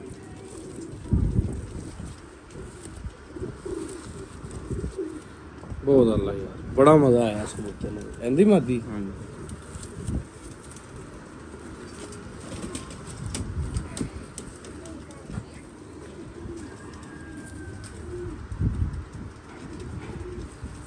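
A pigeon coos in a few short, warbling bursts mid-way, mixed with wing flutters and other bird sounds, while someone talks nearby over outdoor background noise.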